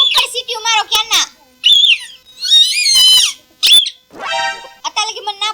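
A toy whistle is blown in short, shrill, wavering squeals, several bursts over a few seconds, with voices around it in a lively household comedy scene.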